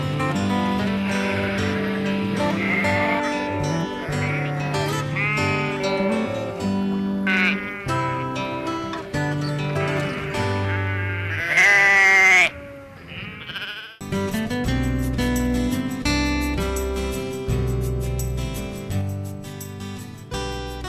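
Sheep bleat on a farm at shearing time, a flock of 2,600 ewes plus rams, with many overlapping loud, wavering calls close by, nearly continuous, broken by one brief pause.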